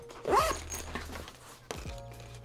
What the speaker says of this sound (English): I'm gonna zip this wide open